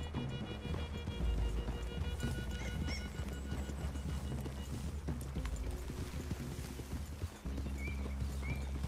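Horses move through a clearing in Red Dead Redemption 2, hooves clip-clopping steadily at a walking pace, close and clear, with a soft whinny and a low rumble of movement underneath.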